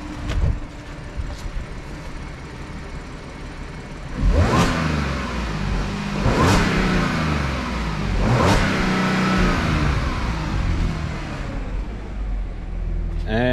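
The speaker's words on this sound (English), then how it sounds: "Get a couple before revs with the stock intake." A stock-intake 2014 Audi S5 engine revs three times in quick succession, each blip rising sharply and falling back to a steady idle, loud and close, with no talking over it.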